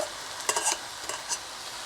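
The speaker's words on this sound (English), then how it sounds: "let me mix one time this, and just to make sure it doesn't burn" Chicken with bay leaves being stirred in a pan, a few soft scrapes and clinks over a faint, quiet sizzle.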